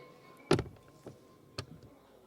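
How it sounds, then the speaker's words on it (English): A Porsche Panamera's soft-close door at the Paris Motor Show pulls itself shut: a firm close thud, then a softer click and a final latch, heard near against quiet hall ambience. "soft close here from the doors"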